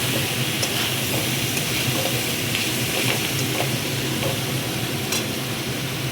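Chicken and vegetables frying in a pan, a dense continuous sizzle filling the clip, close and steady with faint stirring knocks and no talking.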